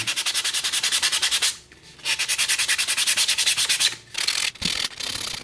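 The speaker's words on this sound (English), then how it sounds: "I did a couple of quick tests with some sandpaper. So this is 220, so it's finer." A 3D printed mold for slip casting a 12oz mug being sanded with fine 220 grit sandpaper: steady rapid back-and-forth rasping strokes, close and loud, with a couple of brief pauses and no talk.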